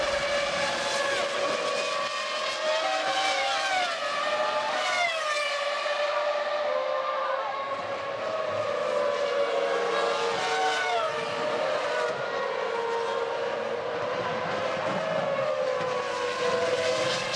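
Formula 1 cars racing at Monza during the 2001 Italian Grand Prix, a continuous high-pitched engine wail rising and falling as cars pass and shift, loud and layered, with no voices.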